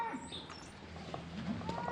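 Cattle low and moo faintly at a distance among outdoor background noise around rodeo chutes, with no voices clearly heard.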